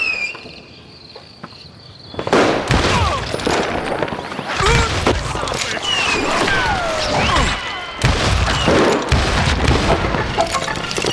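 Gunfire in Call of Juarez: Gunslinger, set in a saloon: dense, loud bursts of shots and crashing impacts over a busy game soundscape, beginning abruptly after a quiet lead-in and continuing throughout.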